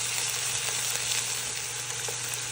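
Cheeseburger patties sizzle steadily in a hot pan, a constant close frying hiss with an even crackle and no talking.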